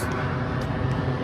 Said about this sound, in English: That was the airplane flying over.